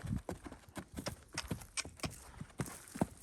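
Hooves of a horse being ridden and schooled in a nice stride, a steady rhythmic series of soft clip-clop footfalls, fairly quiet, heard alone without voices.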